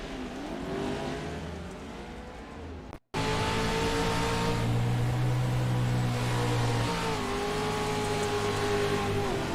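Onboard engine of a race truck on a dirt oval at The Dirt Track at Charlotte, a loud steady roar rising and falling through revs, broken by a sudden brief dropout, then continuing hard at full throttle.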